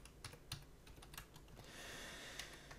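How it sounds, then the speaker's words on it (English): Keystrokes on a computer keyboard while entering a file path on a Linux system, a quiet run of irregular taps over a soft background hiss, with no voice. "you're just going to type in the location of the file that we just created"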